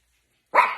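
One sharp, loud dog bark bursts suddenly out of silence, close by and alone.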